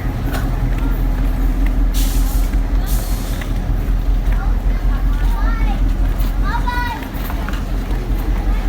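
Air brakes hiss and a diesel engine rumbles steadily on the Kuranda Scenic Railway train in Queensland, with sharp bursts of released air and squealing brake tones over a constant low drone while passengers chatter nearby.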